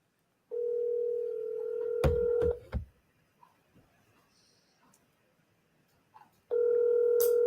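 Telephone call placed for a dirt-track racing sports show: a steady dial tone, then a burst of dialing clicks and tones, followed by quiet and the dial tone returning at the end, close and clear with no talk.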